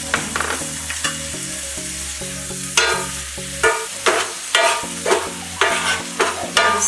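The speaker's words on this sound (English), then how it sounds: "I'm going to scramble the egg a bit." Egg sizzling in hot oil in a pan while being scrambled, with repeated scraping stirs over a bright crackle, near and loud, with no one talking.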